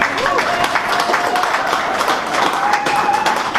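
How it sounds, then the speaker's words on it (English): Crowd applause at a Perry Lakes Hawks 50th anniversary gathering for Mike Bustle, a dense steady patter of many hands with some voices and cheers mixed in throughout. "Round of applause for Mike Bustle."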